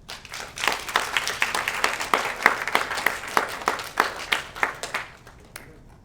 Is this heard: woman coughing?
no